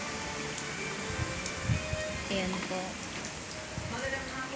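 Steady rain falls during a typhoon under Signal No. 4 in Tarlac City, Philippines, a dense continuous patter with a few louder drops, while a person speaks briefly over it.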